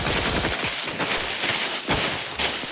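Gunfire in The Outer Worlds 2, snipers firing during a fight: a dense run of sharp shots and rattling bursts overlapping across the whole stretch, loud and close with no pauses.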